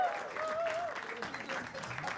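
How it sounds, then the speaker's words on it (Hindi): Audience applause at a comedy talent show, a brief steady wash of clapping from a crowd with a voice speaking over it. "जोरदार तालियां"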